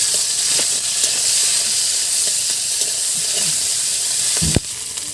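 Ground cumin and ginger paste frying in a pan, a loud, constant close hiss of sizzling oil with a few faint stirring scrapes and one sharp knock near the end.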